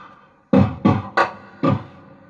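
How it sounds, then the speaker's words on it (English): A looped beat made for the song Hold You plays alone: four punchy, thick hits in a halting rhythm with short decays between them, up close and fairly loud. "this is the loop I created for Hold You."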